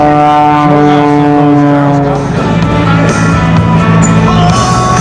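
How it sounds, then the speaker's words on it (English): A Cap 232 aerobatic plane hovers and spins at the 2013 Reno Air Race, producing a loud, sustained droning engine whose pitch shifts and wavers. "Now he's just going to hover the aircraft for a moment."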